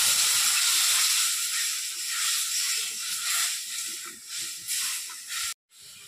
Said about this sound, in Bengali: মশলাটা ভেজে নিয়েছি। এবার কড়াই আমি জল দিয়ে দেবো।